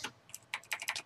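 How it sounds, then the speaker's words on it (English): Rapid, fairly faint typing on a computer keyboard during a live talk show, a brief irregular burst of key clicks with no voices over it. "John, sounds like you're Googling some stuff."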